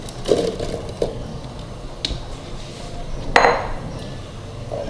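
Several soft thuds and light clinks as strawberries drop one by one into a hard grinder jug, irregularly spaced and close.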